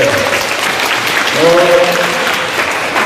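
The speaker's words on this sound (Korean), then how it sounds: "같이 박수 한번 칠까요?" Teachers at a school community forum clap together in a dense, even wash of applause, steady and fairly loud throughout, with a voice briefly heard partway through.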